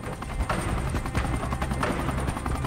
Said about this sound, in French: deux gazelles décollent de Mopti Sévaré.